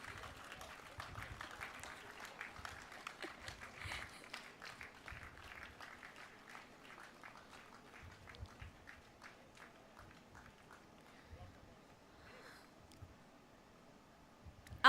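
Audience clapping at an evening plenary session and cultural programme, a long stretch of fairly faint, somewhat scattered hand claps from a crowd, thinning out toward the end.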